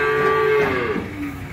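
A single close, loud moo from young breeding cattle being shipped, a drawn-out bellow falling in pitch and fading after about a second.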